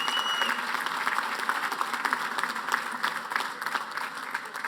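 A dinner audience applauds steadily, a dense wash of many hands clapping together at a constant, fairly loud level for the whole stretch.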